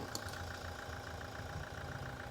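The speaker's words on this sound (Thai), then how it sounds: "นี่เครื่องยนต์นิ่งมาก นะคะ เครื่องยนต์นิ่งมากเลย" A 2019 Toyota Fortuner 2.8 diesel engine idles steadily with a low, even rumble and a faint rhythmic knock, close and continuous, with no talking.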